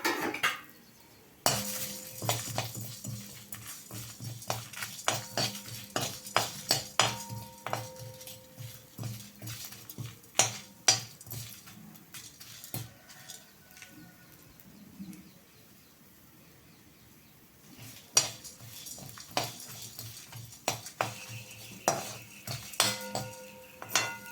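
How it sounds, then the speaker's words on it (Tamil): Metal utensil repeatedly clanking and scraping in a pan as fennel, chili and coriander are stirred and dry roasted, bright close clinks coming in uneven bursts with a brief lull partway through. "இந்த பெருஞ்சீரகம், மிளகாய், கொத்தமல்லி இதெல்லாம் ஒன்றா போட்டு வறுத்துக்கலாம்"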